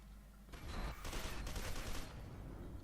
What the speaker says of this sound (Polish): Dostała jeden strzał.